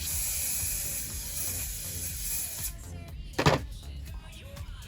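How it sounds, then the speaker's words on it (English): Hairspray sprayed onto hair during styling, a loud continuous aerosol hiss lasting several seconds that cuts off abruptly, followed by a short puff and quieter handling sounds. "And spray."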